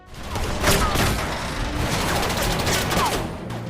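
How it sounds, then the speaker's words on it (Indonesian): A burst of gunfire in a mafia action film scene, several sharp shots cracking in quick succession with echoing booms over a busy soundtrack. "Barney langsung disambut dengan beberapa tembakan dari Villain yang telah menunggunya."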